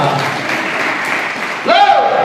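A church congregation claps hands during a Sunday service. The steady, close clapping runs throughout, and a voice speaks over it near the end.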